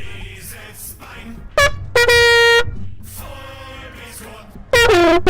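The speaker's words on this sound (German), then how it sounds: "War nie schwerer, diese Tröte zu tröten." Loud, blaring toots of a horn, several short blasts and one longer held note, break out against a quieter background over a few seconds.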